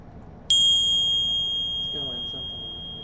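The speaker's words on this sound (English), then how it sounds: "and then click that itty bitty bell" A single bright notification-style bell ding rings out sharply and then hangs in a long, slowly fading tone, with a faint voice murmuring low in the background near the end.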